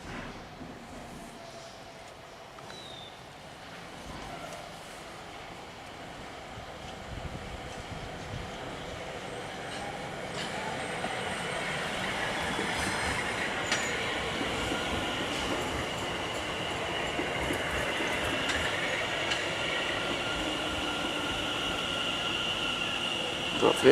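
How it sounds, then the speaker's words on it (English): A London Overground train on the Watford Junction to Euston line passes at South Hampstead, its rumble and clatter building gradually from faint to loud over the whole stretch, with a light metallic wheel squeal; no one speaks. "coming now is another London Overground service. This is running 2 Charlie 23 from Watford Junction to London Euston."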